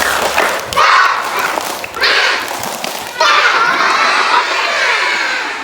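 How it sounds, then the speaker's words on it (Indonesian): A group of children chanting and clapping in rhythm during a school visit to a fire station, loud bursts of shouted chant with thumping claps in three surges. "Boleh om dengar tepuk semangatnya?"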